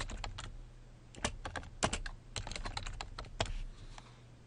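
C++ code being typed on a computer keyboard, with quick irregular runs of close, crisp key clicks and a few heavier thumps, separated by short pauses and with no talking.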